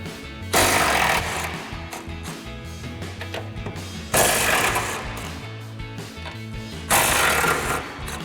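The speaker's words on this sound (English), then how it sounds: "We're going to get up here with a 13mm socket." A 13mm socket on a power tool zips off the upper strut mounting nuts of a 2005-2009 Mustang GT front strut in three loud, rattling bursts separated by quieter mechanical noise, with no talking.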